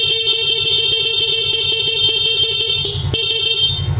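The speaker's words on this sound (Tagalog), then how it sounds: "Dating magbusina." A horn on a Honda Smash 115 motorcycle with a Motolite battery sounds in a steady, loud, buzzy tone, held almost without break and close up, with a brief dip near the end.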